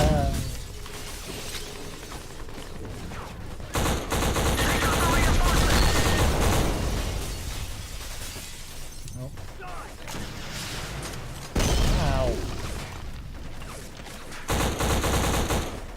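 Video game firefight in an attack on a museum, with loud bursts of rapid gunfire and heavy volleys coming in clustered waves, broken by short pauses, while players talk over the shooting.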